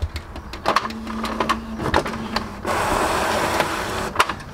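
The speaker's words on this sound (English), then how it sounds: "Oh no, wrong printer!" A home printer runs with mechanical clicks and a steady whir, followed by a louder continuous feed noise in the second half, close by in a room with scattered clatter.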